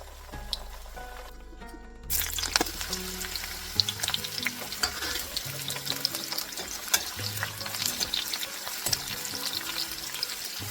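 Jackfruit vada frying in hot oil: after a quieter opening, a dense, steady sizzle and crackle take over and hold loud and close for the rest of the clip, with no voices.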